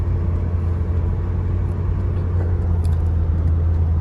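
A Mercedes SL600 V12 roadster drives off, producing a steady low engine rumble and road noise from close by. There is no speech.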